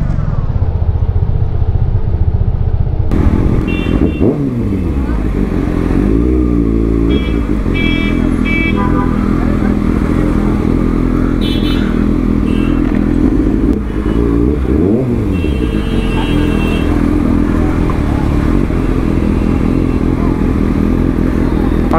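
A superbike engine idles and rumbles in city traffic in Dumka, Jharkhand, a steady low growl running throughout with occasional revs, surrounding vehicle noise and clatter underneath.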